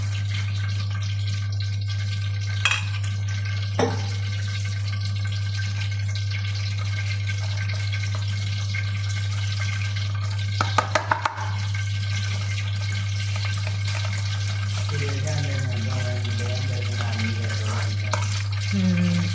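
Batter for potato bread rolls being stirred in a bowl, a steady wet scraping over a constant low hum, with a few sharp clinks of the spoon near the end and no talking.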